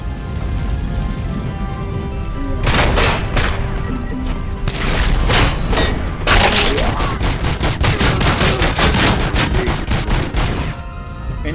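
Rapid gunfire from a gun in a video game, loud close bursts of shots that grow into dense repeated cracks and booms across the middle and end, with no talking over it.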